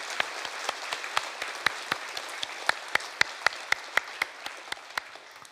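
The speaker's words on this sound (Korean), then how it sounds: "우리 모든 분들께 감사의 박수로" A church congregation applauds in thanks, a steady run of rhythmic, evenly spaced claps that sound fairly distant and reverberant, with no talking over them.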